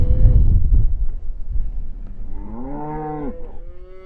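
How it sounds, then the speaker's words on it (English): Dexter cows moo in a river pasture, one long, loud, close low moo rising and falling near the end, over gusty wind rumble on the microphone. "We have a few Dexter cows in here."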